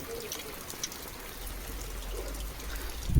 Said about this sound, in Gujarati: તો જોયું તો વરસાદ ચાલુ થઈ ગયો